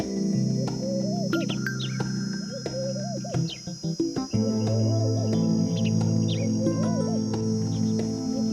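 Birds chirp and trill in the Kalahari desert of the Kgalagadi Transfrontier Park, with short repeated calls over a steady insect-like drone and a sustained tonal hum running throughout.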